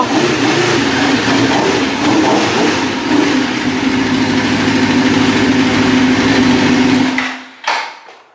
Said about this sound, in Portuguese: olha o barulho dessa moto, mano